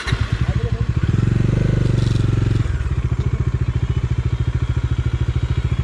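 A Bajaj Dominar 400 motorcycle engine runs close by with rapid, steady thumping pulses, briefly revving louder for a second or two before settling back to a quick, even idle beat.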